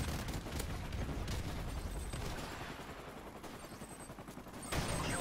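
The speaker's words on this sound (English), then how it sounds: "just walking around the map with a shotgun." Rapid shotgun blasts in a first-person shooter come thick and loud, a continuous barrage of overlapping gunfire with dense crackling impacts that barely lets up across the whole stretch.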